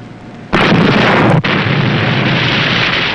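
A rocket flare fires aboard the submarine USS Nautilus with a sudden loud whooshing burst, then a sustained roaring hiss that carries on to the end.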